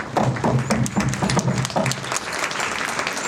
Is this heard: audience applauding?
yes